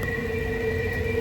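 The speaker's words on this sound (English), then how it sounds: "Train coming through." Railway train rolling along nearby tracks by a river, a steady loud rumble with sustained tonal whine and ringing overtones, continuous and close throughout with no voices.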